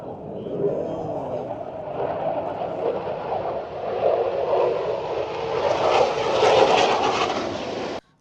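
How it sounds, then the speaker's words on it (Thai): Jets of China's August 1st aerobatic team roar overhead during a flying display, a broad continuous engine rumble that swells louder toward the end before cutting off, with faint crowd voices underneath. "ฝูงบินจาก ประเทศจีนนะครับเจ้าออกัสที่ทุกคนตั้งตารอคอย"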